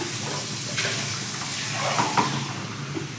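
Water poured from a glass into a pot for tomato bath on a home stove, a soft steady rushing splash close by with a faint hiss and a couple of light knocks, with no talk.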